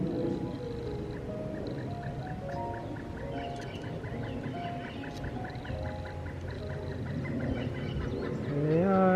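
Ducks at a farm duck pond with a small island, a mother duck among them, calling in a dense ongoing chorus of overlapping quacks and honks, moderately close and fairly loud throughout, with a louder call rising at the end.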